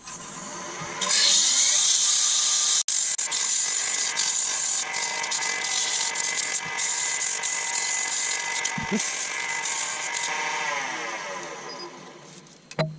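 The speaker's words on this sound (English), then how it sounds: "I think it's time for a dose of sandpaper." Sandpaper is pressed against a wooden Viking drinking cup spinning on a woodturning lathe, giving a loud, steady whirring hiss that runs continuously with a sharp click near the start and fades slightly at the end.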